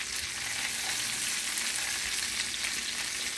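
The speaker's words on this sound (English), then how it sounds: "You gotta make sure you sear them evenly." Meat searing in a hot pan, a dense, steady crackling sizzle close up, no talk.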